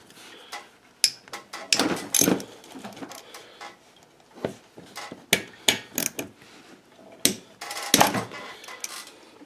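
A ratchet on a short extension works loose the 8mm bolts on a Honda 400 Foreman ATV, giving close metallic clicking bursts and clanks in irregular spurts with brief quiet gaps.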